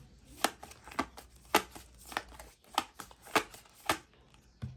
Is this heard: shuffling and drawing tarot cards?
yes